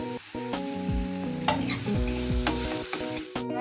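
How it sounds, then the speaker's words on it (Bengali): Sliced onions fry lightly in a pan for potato chops, a steady sizzle with stirring scrapes beneath sustained musical tones throughout. "পেঁয়াজটা খুব না হালকা একটু ভাজবো"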